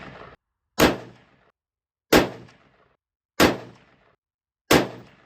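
A 1980s Colt A2 AR-15 carbine fires at a target 100 yards away: four loud, sharp shots spaced about 1.3 seconds apart, each with a short echoing tail and silence between.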